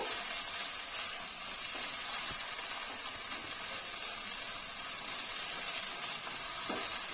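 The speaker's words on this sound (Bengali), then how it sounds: "আর এই পেঁয়াজটাকে যোগ করে দিলাম ওর মধ্যে পেঁয়াজটা দিয়ে দিলাম দিয়ে আবারও একটু নাড়িয়ে নেবো" Chopped onion fries with a pinch of sugar in a hot pan as a mash of broad beans is cooked. It makes a steady, soft hiss of sizzling that runs without a break, with no one talking.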